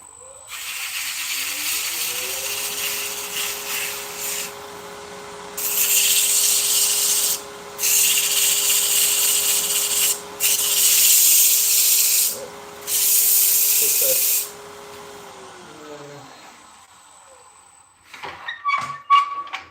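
Sandpaper worked against a spinning thin textured mulberry wood vase on a lathe, loud hissing rubbing in several bursts of about two seconds each over the lathe's steady hum, ending in a few clatters.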